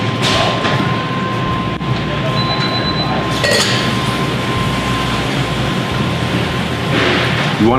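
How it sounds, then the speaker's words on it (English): Sparkling wine pours into a glass held at an angle, a continuous fizzy gush with bright clinks of glass near the start. "just pick the glass up and pour it into there on an angle"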